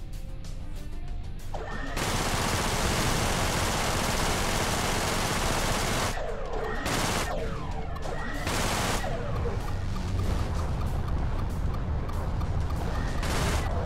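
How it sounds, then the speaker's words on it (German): Loud, sustained roar of an entire base exploding in the space combat game Everspace, with crashing blasts and gunfire-like bursts, continuing almost without pause for the whole stretch. "Wow, die ganze Basis explodiert, oder was?"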